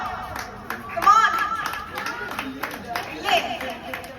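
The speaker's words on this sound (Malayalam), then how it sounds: "നന്നായിട്ടൊന്ന് കൈയടിച്ച് എല്ലാവരും." At an Onam gathering, an audience claps for the winners in scattered, uneven bursts, with a voice talking over the clapping.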